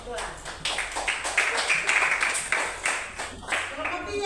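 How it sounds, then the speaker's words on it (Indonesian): Pupils in a fourth-grade classroom clap for a group of classmates, a series of close, uneven bursts of hand claps that swell and fade, with a little chatter mixed in. "Tepuk tangan buat kelompok 2."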